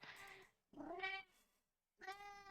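A person imitates a cat in three drawn-out, nasal meows with short pauses between them, close and fairly quiet, during a tabletop role-playing game session.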